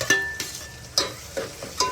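Tomato gravy hits a pan of frying onions, giving a few sharp scraping stirs over a low, steady sizzle, close and fairly quiet, with no voices.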